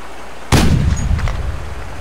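A single loud rifle shot cracks out close by during a hare hunt, followed by a short decaying echo rolling across open country.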